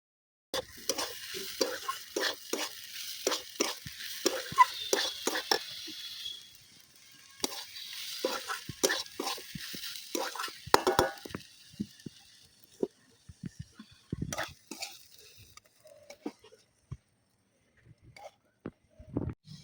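Sizzling and stirring of sheti greens (shak) frying in a pan, with repeated scraping spatula strokes over a hiss that fades into scattered crackles and softer stirring toward the end.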